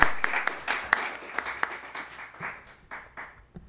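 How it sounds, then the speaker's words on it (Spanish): Sparse, scattered clapping from a small audience at a talk on fossil fuel extraction, individual claps standing out irregularly and thinning out toward the end. "les pido un fuerte aplauso para la compañera"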